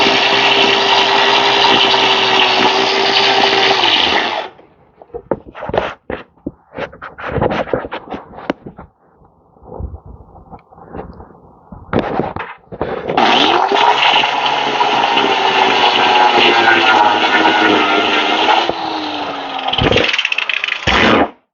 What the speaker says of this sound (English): they commented on a video and said that's a sanding disc. I'm like, grinder, same damn thing